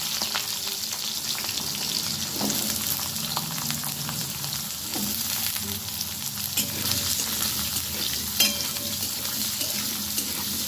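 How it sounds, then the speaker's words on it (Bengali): Potatoes and slit green chillies sizzle loudly in a pan with cumin seeds, a steady close frying hiss with occasional stirring scrapes and no voices. "আলুগুলো খুব ভালোভাবে ভেজে নিয়েছি।"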